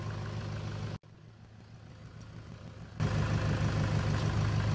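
Toyota Hilux engine idling steadily with the battery negative terminal disconnected, a continuous low hum with a brief dropout near one second, then growing louder and fuller toward the end.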